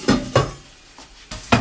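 Metal Saladmaster cooking pot lid being set down and closed, giving several sharp clanks and rattles of metal on metal, close and loud, with no talking.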